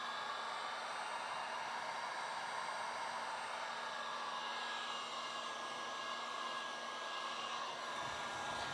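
A heat gun blows steadily on the edge of matte paint protection film, a continuous airy whoosh with a faint motor whine, close and unbroken.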